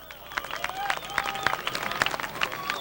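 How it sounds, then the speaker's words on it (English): Crowd in the grandstands at a stock car race at Star Speedway applauds the winning driver, uneven bursts of clapping and cheering with a thin whine of engines underneath, fairly distant and spread out. "How about a big round of applause for Larry Record."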